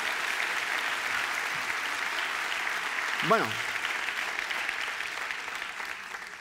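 Studio audience at a Spanish stand-up comedy show applauds steadily throughout, a dense wash of clapping with a brief spoken word from the performer partway through.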